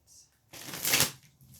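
A quick riffle of oracle cards being shuffled, a brief papery burst rising to a crisp flutter, close to the microphone.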